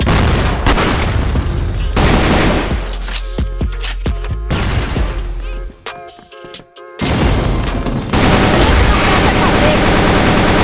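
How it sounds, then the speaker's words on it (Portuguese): Grenade blast in a shooting video game, heavy booms amid dense machine-gun and rifle fire, loud and close, with a short quieter gap before the firing resumes and voices under the action. "Granada!"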